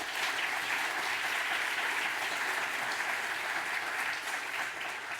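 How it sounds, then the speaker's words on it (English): At the closing of a school innovation forum, an audience gives a warm round of applause, a dense continuous patter of many hands at moderate level, steady throughout and thinning slightly at the end. "you definitely can give those people also a warm round of applause"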